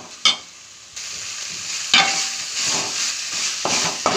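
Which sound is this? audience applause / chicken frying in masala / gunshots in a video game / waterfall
chicken frying in masala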